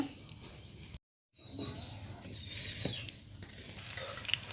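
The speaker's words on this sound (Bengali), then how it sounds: "কড়াইতে পেঁয়াজ আর তেল দেওয়া হয়েছে" Onion fries in oil in a wok, a soft steady sizzle with occasional stirring scrapes, quiet and close, briefly interrupted by a gap, with faint birdsong in the background.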